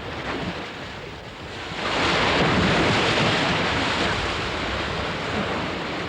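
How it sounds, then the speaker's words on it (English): Atlantic waves burst on the Uist shores in a loud, continuous roar of surf that swells after a couple of seconds, with wind buffeting the microphone and no voices. "The waves which burst on the Uist shores have travelled miles in from the Atlantic"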